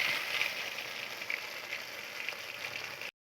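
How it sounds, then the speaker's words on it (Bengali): Pumpkin leaf fritters frying in hot oil over medium heat, a steady fine crackle and hiss, close and moderately soft, continuous with small pops and no voices. "মিডিয়াম আঁচে লাল লাল করে সবগুলো ভেজে নেব"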